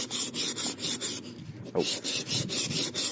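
A chisel is rubbed back and forth on the fine side of a sharpening stone in quick, even rasping strokes with a short pause partway through, close and loud, with a brief exclamation from a man.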